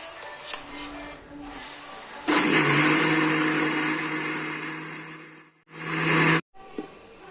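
An electric mixer-grinder whirs loudly as it grinds urad dal and rice with rock salt, running steadily for a few seconds, stopping, then starting again briefly after some faint clatter and background sounds.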